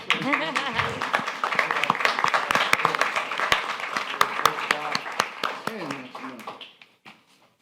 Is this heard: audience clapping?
yes